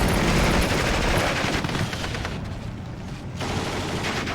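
An MG42 machine gun in the Steel Division 2 war strategy game fires sustained, loud, rattling bursts across a road, a dense continuous roar that dips briefly near the middle before surging again.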